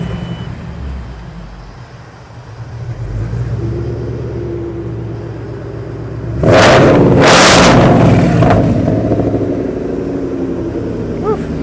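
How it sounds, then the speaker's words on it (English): The engine of the custom Scarliner car idles with a low rumble through its exhaust, then revs hard twice in quick, loud, close bursts before settling back to a throaty idle. "It even sounds like a supercar."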